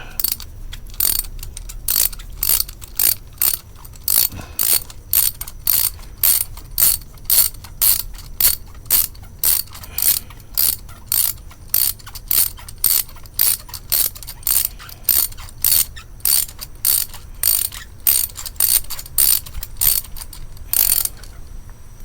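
A socket ratchet clicks in fast, evenly spaced bursts as a spark plug is unscrewed from a Hyundai Sonata N Line engine, a sharp, close metallic ratcheting repeated steadily for about twenty seconds with no talk.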